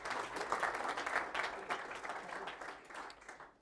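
A conference audience in London claps after a technical talk, a quiet, moderately distant round of applause with crisp individual claps that carries on evenly and tapers slightly at the end.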